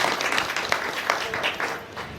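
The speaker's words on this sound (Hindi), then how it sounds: "एक बार जोरदार ताली से स्वागत" Audience applause at a political gathering in Jharkhand, a short burst of crowd clapping, moderately loud and diffuse, with a bit of voice mixed in.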